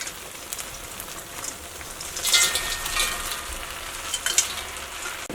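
Crisp fried cauliflower stirred into a hot pan of sauce for Thattukada-style gobi fry, with a continuous sizzle and a burst of louder scraping and spattering midway, close up and without speech.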